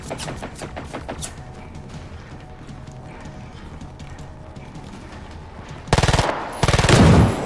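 Heavy gunfire from robot enemies in Generation Zero, artillery and shotguns: a busy stretch of rapid shots and clatter, then two loud, close, dense bursts near the end.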